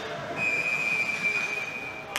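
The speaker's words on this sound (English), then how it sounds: "And a whistle." A referee's whistle at a youth ice hockey game gives one long, steady, shrill blast lasting nearly two seconds. It rises clearly above a constant background of rink and crowd noise, with no speech.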